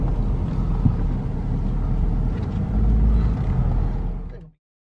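A diesel truck rumbles at a repair shop, a steady, close, low idle that holds for about four and a half seconds before cutting off abruptly into silence.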